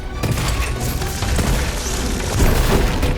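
Explosives going off in the game SteelRising, a dense, loud burst of booming and crashing blasts that fills the whole stretch, close up and without speech.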